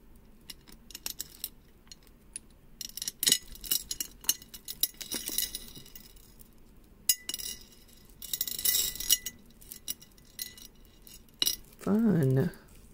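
Jewelry beads and pearls clink and rattle as strands are cut apart, with scattered bright clicks and jangles, close and fairly loud, and a brief burst of voice near the end.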